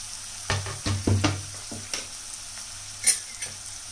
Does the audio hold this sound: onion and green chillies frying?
yes